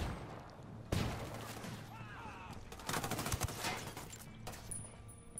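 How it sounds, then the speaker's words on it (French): In the game Ghost Recon Wildlands, a flashbang grenade bursts with a sharp bang, then a ragged string of gunfire cracks and rattles at fairly low level before fading. "J'envoie une flashbang."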